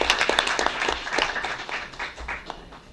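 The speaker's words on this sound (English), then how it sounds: "So please join me one more time in giving all these people a round of" An audience claps at a school board meeting in Avoyelles Parish, a dense, steady round of applause close by that holds for the whole stretch and tapers slightly toward the end.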